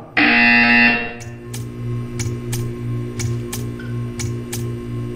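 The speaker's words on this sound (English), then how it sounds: "When you hear the buzzer, stare at the art." A loud electronic buzzer in the video game Portal 2 blares for about a second, followed by a series of sharp, evenly spaced ticking clicks over a low mechanical hum.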